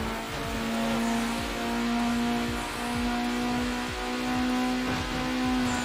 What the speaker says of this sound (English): Oh, the engine sounds so nice.